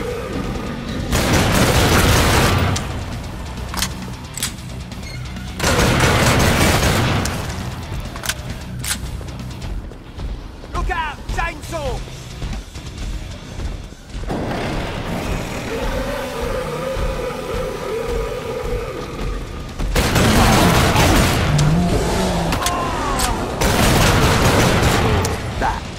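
Heavy gunfire and booming blasts in Killing Floor 2 on a prison map, with loud sustained bursts that alternate with calmer stretches of rumbling game noise.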